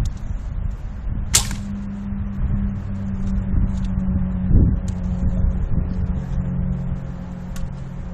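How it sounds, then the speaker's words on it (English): A 445 grain arrow loosed from a reinforced Manchu bow outdoors: one quick sharp release with a snap early on, then a faint distant thud, against steady wind noise. "These are the 445 grain arrows now."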